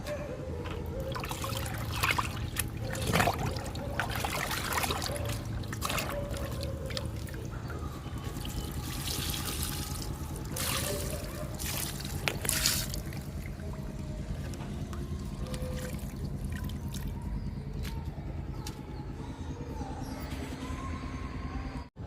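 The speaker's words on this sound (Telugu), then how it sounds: "పెద్ద డబ్బా నిండా ఇస్తున్నాను. ఇంకా లిక్విడ్ ఇద్దాము." Kitchen waste liquid fertilizer poured from a big can onto garden plants, a continuous near trickle and splash of liquid running for over twenty seconds with occasional handling knocks, no talk.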